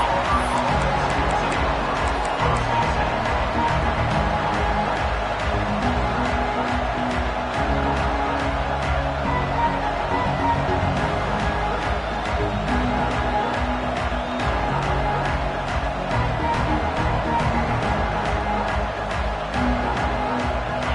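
Stadium crowd at a college football game between Auburn and Alabama, a loud continuous roar of massed voices filling the whole stretch, with a play-by-play announcer talking over it.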